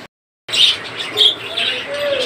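Caged pet birds at a shop, mynas, ringneck parakeets, doves and budgerigars, chirp and tweet in a busy overlapping chorus after a brief silence, with bright high calls repeating near and far.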